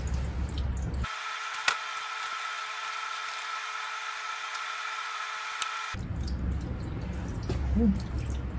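Water rinses over an etching plate during a couple of minutes of washing, a steady faint hiss with occasional drips and light clicks, close by and alone.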